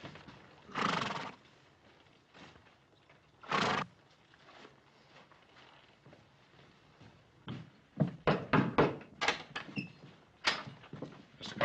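Several cavalry horses arrive and halt on a 1960s Western ranch, with a couple of loud whinnies early on, then a busy cluster of hoof clops and snorts close by.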